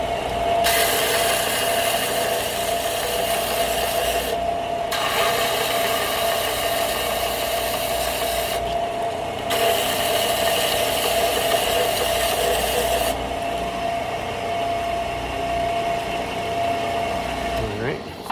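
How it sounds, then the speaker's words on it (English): A belt sander runs in a workshop, giving a loud, steady motor whir that cuts out briefly twice and then winds down near the end. "let me hit the belt sander back here real quick"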